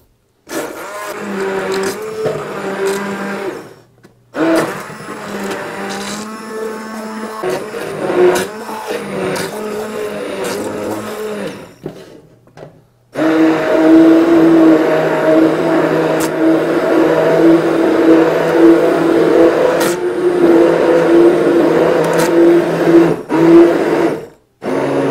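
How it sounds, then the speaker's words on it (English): An electric stick blender whirs through creamy paleo mushroom soup in a pot, running in several loud bursts with brief pauses, the motor pitch steady and buzzing. "So what I'm going to do is just put the blender in and start blending."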